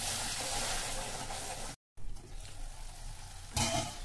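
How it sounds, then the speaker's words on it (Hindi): Tomato paste cooks in a spiced masala for Dhaba-style palak paneer, giving a steady broadband sizzle and bubbling with a brief break midway and a louder stir or splutter near the end, with no talking. "अब हम इसमें अपना टमाटर का पेस्ट डालेंगे और इसको अच्छी तरह से पकाएंगे थोड़ी देर तक"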